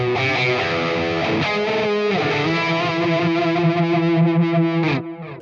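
Distorted electric guitar through a Fractal amp model and BB Pre drive pedal, now with a vibe modulation effect added, plays loud sustained chords that swirl and waver before cutting off near the end.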